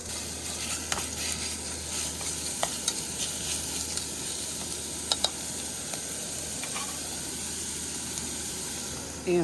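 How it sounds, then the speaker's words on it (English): Breakfast sausage sizzling in a pan on a camping burner during a car-camping breakfast, a steady close frying hiss with occasional small pops and clinks of a utensil throughout. "I'm going to add my breakfast sausage."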